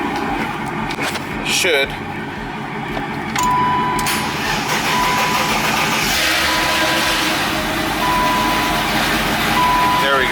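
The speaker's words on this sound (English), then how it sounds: "Now let's see if it starts, because it was like dead completely." A BMW E30 engine, completely dead before a jump charge, cranks and fires up amid a steady loud running hum, with a person speaking briefly over it.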